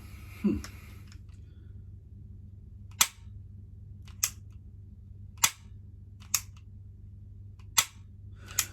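A pistol's trigger is pressed during dry-fire practice, producing six sharp, close mechanical clicks spaced about a second apart over a quiet room background, after a brief soft handling noise at the start.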